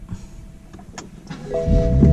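Some clicks and mechanical noises, then a BMW GTS engine with a Bootmod3 tune cranks and catches, its low roar rising sharply and holding loud and close.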